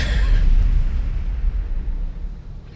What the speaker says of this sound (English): I hear explosions, but I see no explosions